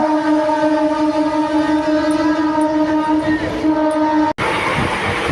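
A steady, tonal horn-like drone sounds inside a moving train in Kolkata, departing Howrah station, over a constant rumble, then cuts off abruptly into lower carriage noise.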